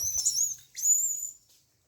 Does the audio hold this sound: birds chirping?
yes